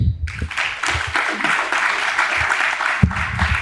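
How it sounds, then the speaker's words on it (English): Steady audience applause at an event about ethnographic collections and sustainable culture, a dense wash of clapping that begins abruptly and continues throughout, fairly loud. "Please, another big round of applause."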